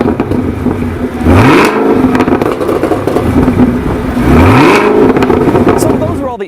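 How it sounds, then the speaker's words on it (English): A 2017 Chevrolet Camaro ZL1's exhaust revs hard twice, rising to an aggressive roar and dropping back to a rumbling idle, loud and close. "there's the ZL1's exhaust note, which sounds nice and aggressive"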